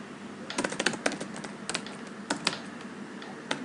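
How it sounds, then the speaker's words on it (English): Computer keyboard typing while entering a router command during a basic router configuration, with scattered bursts of keystrokes, clustered clicks separated by short pauses, fairly close and moderately loud. "if you type the command show IP route BGP"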